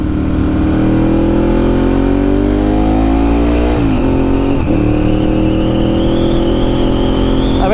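Motorcycle ridden fast at night with the visor up, engine droning loud and steady as it revs through rising pitches, with constant roaring wind noise over the rider's helmet throughout.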